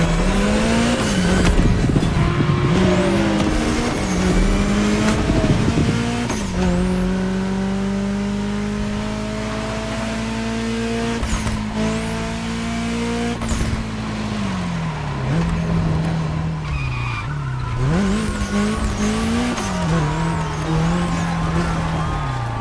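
A Porsche 911 in The Crew Motorfest racing game, loud and continuous: a high engine whine rising and falling through gear changes, with repeated revving and bursts of tire squeal, and no voices.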